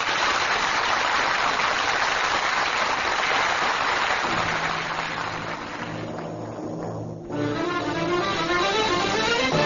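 Radio comedy sound effect of a car being driven out of a garage: a steady rushing engine noise, then a sustained horn-like tone that shifts pitch partway through, with no speech.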